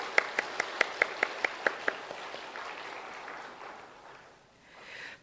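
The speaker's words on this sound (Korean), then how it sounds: "우리 교육자들을 위해서 격려의 박수." Inside a church service, a few sharp, evenly spaced rhythmic claps open a congregation's applause for educators, then blend into looser scattered clapping that thins out and fades, with a soft murmur rising toward the end.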